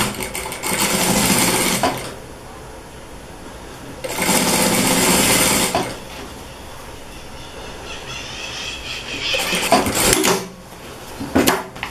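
Sewing machine stitching a Seminole patchwork dish towel, two loud steady runs of stitching separated by pauses, followed by shorter bursts and handling clicks.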